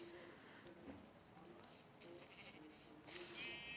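Synthetic Minecraft sheep bleats sound in short bursts amid soft game background sounds, with a person talking quietly over them.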